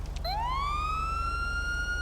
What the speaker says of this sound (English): if you press the B button, that just gives you a little siren blip